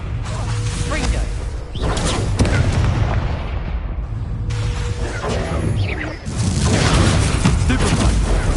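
Confringo blasting curse explosions in Hogwarts Legacy on PS5, loud booming blasts with whooshing spell sounds and dense, continuous combat noise that briefly drops away and returns.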